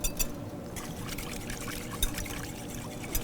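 A beaten mix of egg, a spoonful or two of oil and a cup of water is poured slowly into a bowl, giving a steady liquid trickle and splash with a few brighter plops, close and fairly quiet.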